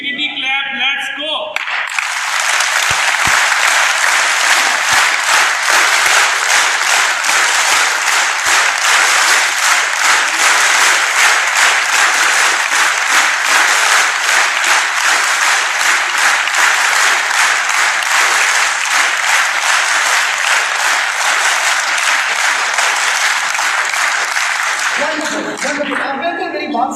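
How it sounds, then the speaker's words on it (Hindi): An audience in Alhamara Hall breaks into long, sustained applause, a dense steady wash of clapping lasting over twenty seconds, with brief talk before and after it. "Infinity clap, let's go."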